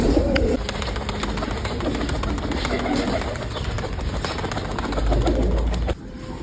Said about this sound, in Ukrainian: Белый молодой, ранний голуб.